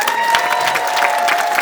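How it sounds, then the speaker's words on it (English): A London audience applauds young Tibetans at a community event, with steady clapping from a crowd and a faint sustained tone running underneath throughout. "let's give a big round of applause for these young,"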